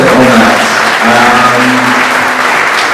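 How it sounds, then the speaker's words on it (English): An audience at a conference talk applauds for the speaker Colin, with dense, loud, sustained clapping for a few seconds while a voice speaks faintly underneath. "Round of applause for Colin on that."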